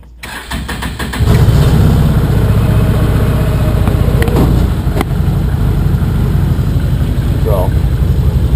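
An 800R engine fires up with a short crank and settles into a loud, rough idle that thrums steadily, with a voice speaking over it partway through.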